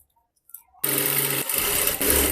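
A sewing machine stitches the neckline of a ruffle blouse, starting abruptly after a near-silent moment and running in a loud, steady mechanical whir with a brief dip midway.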